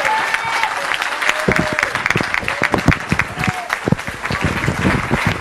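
An audience at a live music battle event applauds a band with dense, continuous clapping that fills the room and stays loud throughout.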